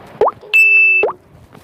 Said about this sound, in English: I'm just gonna add the pop effect over here too.